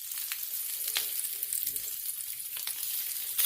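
Food searing in a hot pan and being flipped as it browns, with compound butter in the kitchen; a loud, dense, continuous sizzle with a few brief crackling bursts, close and without talk.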